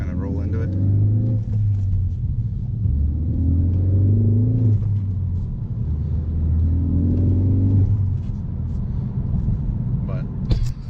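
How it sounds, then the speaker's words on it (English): A Ford Focus ST with a green aftermarket air filter pulls away from a stop in a series of engine surges, each a deep rumbling rise in revs, heard from close inside the car with a voice talking over it. "I think you can hear the turbo a little bit more. You can kind of hear it spool just a little bit more"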